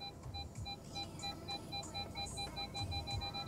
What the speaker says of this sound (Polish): Już trąbi mi z tyłu czujnik parkowania, że zbliżam się do tylnego auta.